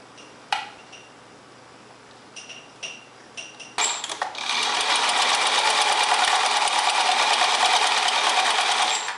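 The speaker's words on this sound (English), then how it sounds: "The shoulders that we pinned together, we are now going to stitch using a 5/8 of an inch seam allowance." A sewing machine runs a regular straight stitch along the 5/8-inch shoulder seams of a vintage 1946 Vogue dress. A few light clicks and taps come first, then a steady, close, fast whirring hum holds to the end.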